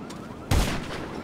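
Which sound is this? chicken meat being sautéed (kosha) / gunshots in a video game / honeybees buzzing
gunshots in a video game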